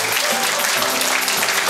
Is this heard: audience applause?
yes